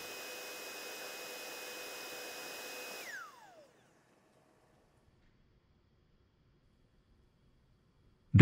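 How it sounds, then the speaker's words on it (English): A vacuum cleaner handled by a Universal Robots UR10e robot arm whines steadily, then switches off and its motor pitch winds down into silence, followed by a brief sharp noise at the very end. "After vacuuming, I change the vertical scaling factor back to 1 and turn off the vacuum cleaner"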